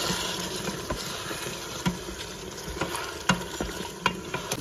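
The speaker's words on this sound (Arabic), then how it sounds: "وغادي نحرك" Kabsa with meat is stirred in a pot over the heat, a soft continuous sizzle and hiss broken by occasional scrapes and knocks of the spoon, close by.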